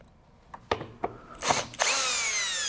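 A power drill backs screws out of a window jamb liner on a double-hung window, with a few short taps and clicks and then a sustained loud whir at the end.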